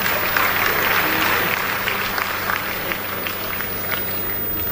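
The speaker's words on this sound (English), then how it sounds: "I want to clap for him." Applause for a state governor rises from a large indoor audience, a dense sustained clatter of many hands that stays loud and even across the few seconds, with crowd murmur underneath.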